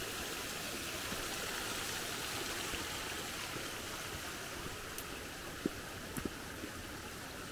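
Water flows in a low creek on a regenerating property with swales, a steady soft rushing and trickling that continues evenly, with a few faint clicks near the end.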